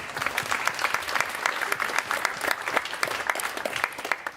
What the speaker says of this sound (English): I would like to give yourselves a round of applause